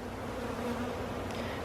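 Honey bees shaken from a nuc hive frame buzz in a steady, dense drone, close and moderately loud, with no talking over it.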